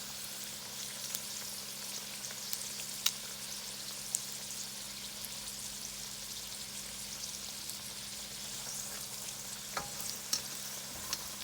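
Homemade Chinese takeout-style egg rolls frying in oil in a pan give a steady, soft crackling sizzle with scattered pops, moderately quiet and continuous with no talking.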